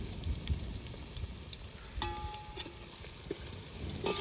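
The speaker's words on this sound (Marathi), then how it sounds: "आपला कांदा बी चांगला तळला आहे बघा" Onions sizzle quietly in a pan for Kolhapuri mutton curry cooked over a wood fire, with soft frying crackle and a few light clinks of stirring, with no talking.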